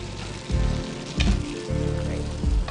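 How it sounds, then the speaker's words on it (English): Spaghettini sizzles in a hot frying pan, a steady crackling hiss with low thumps as things are moved or set down nearby. "And the sizzle sound good."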